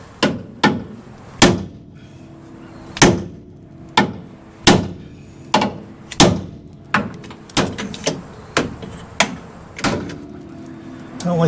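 Ball peen hammer, struck with its ball end, repeatedly hits the frame of a 1966 Ranchero being repaired, giving about fifteen sharp metallic blows in an uneven rhythm, close and loud.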